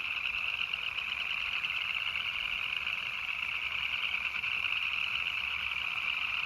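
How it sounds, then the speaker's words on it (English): Frogs calling from a small roadside pond in Central Virginia in late winter make a dense, steady, high trilling chorus that is loud and continuous, with no voices. "sound of frogs."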